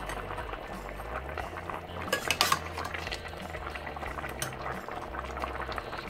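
Beef broth simmering at a steady boil on the stove while the meat cooks, a continuous bubbling with a brief louder clatter midway, no talking.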